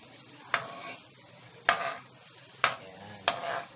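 A spoon stirs fish fillet and mushroom gravy in a pan, giving four sharp scraping strokes over a steady soft simmering sizzle, close and alone without talk.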